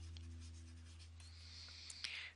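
Marker or pen scratches on a board while a math proof is written out, producing faint, close squeaky strokes over a low steady hum.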